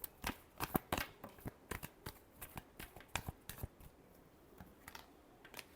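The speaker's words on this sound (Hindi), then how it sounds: "Last shuffle." Tarot cards are shuffled by hand in quick, crisp riffles and taps, a rapid irregular patter of soft clicks up close and quiet, with no talking.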